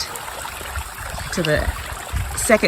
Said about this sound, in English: you have the waterfall flowing down into the lower part of the pond